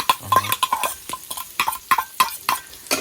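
A utensil scrapes and taps rhythmically against a pan while rice is stir-fried, giving sharp, close metallic clicks repeated several times a second with no talking.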